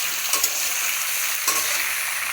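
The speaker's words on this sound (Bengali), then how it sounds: "তেলে একটু ভেজে নেব।" Oil sizzling steadily in a pan while boiled chalta is fried for a Bengali pickle, a constant bright hiss with a couple of louder spatters and stirring scrapes, no talk.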